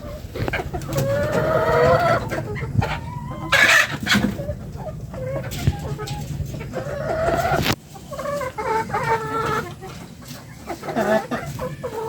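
Chickens clucking and calling repeatedly at close range, hungry before feeding, with overlapping bursts of fowl squawks and a steady farmyard background.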